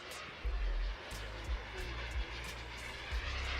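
Low, heavy engine rumble from an aircraft making a low pass at an air show, with steady droning and a few thumping surges that sound near and loud.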